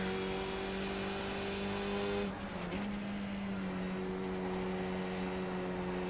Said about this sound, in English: Got the car sound up a little bit there.